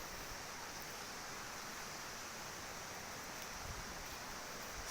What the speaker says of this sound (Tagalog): May sapa pa rito.